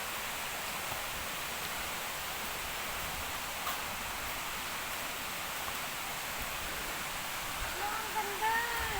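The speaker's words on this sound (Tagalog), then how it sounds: "Yun yung falls guys sa mga baba." Steady broadband roar of the Twin Falls waterfall in Laguna, a continuous rushing wash of falling water, fairly loud and constant throughout, with faint voices and brief chatter near the end.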